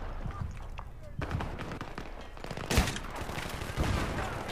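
Gunfire from the hip in Battlefield 3 on PS3, with bursts of rapid shots and a few sharp louder cracks over continuous battle noise, and a voice talking at times underneath.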